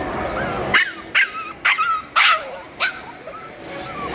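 A dog barks five times in quick, sharp bursts at close range, with short yips in between, over a low outdoor background.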